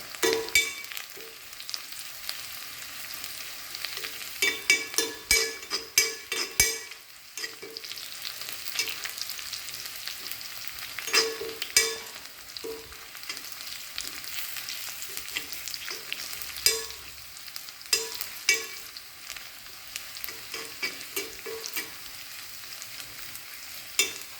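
Onions fry in a pan for a traditional yam and plantain dish, a steady sizzle broken by repeated scraping strokes of the spoon as they are stirred, close and clear, with no talking.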